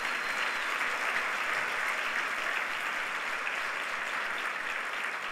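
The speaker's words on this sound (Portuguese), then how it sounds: "Você quer dar um aplauso ao Senhor Jesus por isso?" Church congregation applauding in praise of Jesus, a dense, even wash of many hands clapping that holds steady throughout, filling the room without speech on top.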